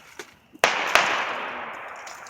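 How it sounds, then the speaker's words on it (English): Backyard New Year's Eve fireworks: two sharp cracks, then a loud bang that rolls into a long, fading crackling hiss close by, with a second bang partway through. "we got people down there doing fireworks too."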